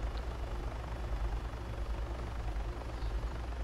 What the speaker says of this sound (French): Ah, y'a un hélico.